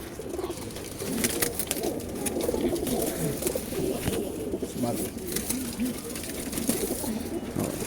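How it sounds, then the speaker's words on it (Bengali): A group of mostly male pigeons coos in low, continuous murmurs, with busy background noise and brief rustling throughout. "সবাই ভালো থাকবেন, আমি কবুতরগুলো দেখাচ্ছি।"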